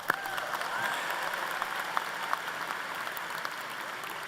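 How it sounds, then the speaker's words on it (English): A large crowd at a university convocation applauds a prize winner, a broad continuous wash of clapping with occasional sharper claps standing out. "Give her a round of applause."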